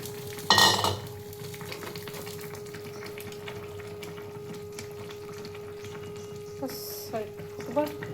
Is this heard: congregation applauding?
no